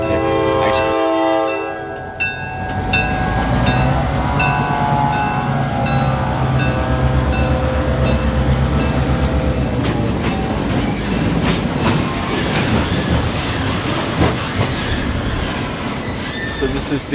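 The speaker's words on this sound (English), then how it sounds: "So this is the Great Smoky Mountain Railroad." A Great Smoky Mountains Railroad train passes nearby, opening with a loud horn blast and then a long rolling rumble with squealing wheels and clattering cars.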